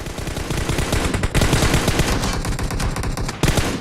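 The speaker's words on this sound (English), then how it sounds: "Sniper getting a couple shots" Rapid gunfire rattles through a PUBG Mobile match, a dense run of sharp, loud shots with brief gaps, sniper rifle fire among it.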